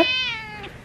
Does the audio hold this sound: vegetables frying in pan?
no